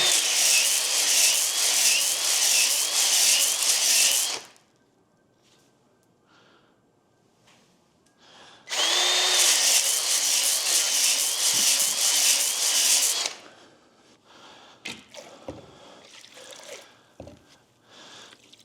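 A drill spins a dingle ball hone inside a 4.5-inch engine cylinder bore, giving two loud, steady, close-up bursts of abrasive whirring with a grinding wobble, separated by quiet pauses and followed by scattered clinks and rustles.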